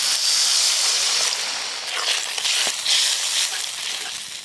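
Water poured onto a frying spice paste with tomatoes for a fish curry, giving a loud, close burst of hissing sizzle that steams and sputters, then gradually eases over several seconds.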